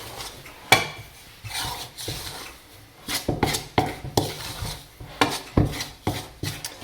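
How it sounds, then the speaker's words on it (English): A spoon stirs soupy bagel dough in a bowl as it comes together into a shaggy mass, giving irregular scraping, rubbing and soft knocks against the bowl, close by with no talking. "the more you stir, the more it starts to come together into a shaggy"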